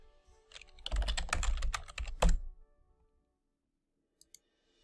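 Rapid burst of typing on a computer keyboard, a dense run of close, crisp key clicks lasting about two seconds, then silence broken by two faint isolated clicks.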